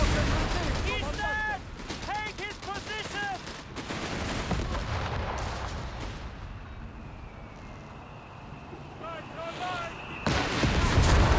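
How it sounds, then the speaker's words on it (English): Artillery fire and gunfire in a Company of Heroes 3 battle, with loud repeated booms, crackling shots and whistling shells layered over constant combat noise. "Must be some wacky artillery."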